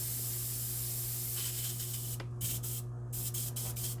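An airbrush sprays in a hobby painting setup, a steady loud hiss with a few short bursts and pauses near the end, over a constant low hum.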